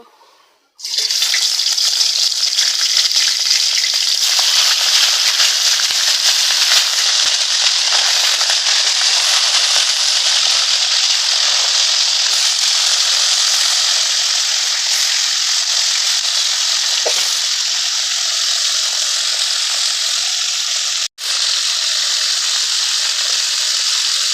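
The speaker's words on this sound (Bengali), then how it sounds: "টুকরো করে কেটে থাকা মাছের মাথাগুলো এবার আমি ভেজে নেব।" Loud, continuous sizzling and crackling of cut fish heads frying in hot oil, starting abruptly and holding steady for the whole stretch.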